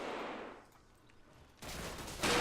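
Gunfire from a house in the wargame Combat Mission, a brief hissing burst that fades, then a sudden rattling stretch of shots that grows louder near the end, fairly distant and with no talk.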